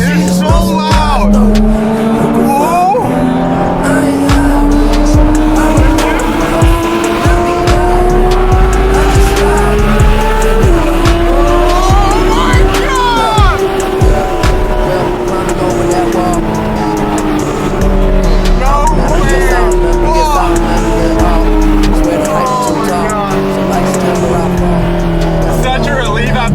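Porsche 911 GT3 RS with Weissach package and an aftermarket exhaust roaring loud and close, revs climbing and falling in long sweeps with sharp crackles, while excited voices shout over it.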